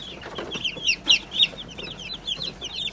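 Newly hatched broiler chicks on their first day peep constantly in a dense, high-pitched chorus, with several louder cheeps standing out close by, and nobody talking.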